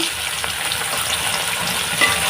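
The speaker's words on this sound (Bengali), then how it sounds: "মাছগুলা উল্টাই দিতেছি" Tilapia fish sizzle steadily in hot oil in a pan while being flipped, a dense, close crackling hiss that holds an even level with a few faint scraping touches.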